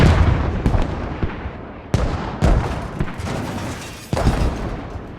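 Mortar rounds booming and exploding in the military shooter Squad on the map Chora, several heavy, separated blasts with rumbling decay, the strongest thumps spaced a second or more apart and fading between hits.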